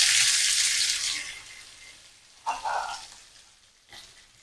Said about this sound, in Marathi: तोंडली आपल्याला छान परतून घ्यायची आहे. तेलावर आपल्याला छान परतून घ्यायची आहे तोंडली.